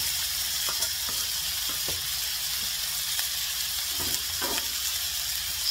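Onions and curry powder fry in a pot of Kenyan chicken stew with a steady, continuous sizzle, plus occasional light stirring clicks, close and fairly loud throughout.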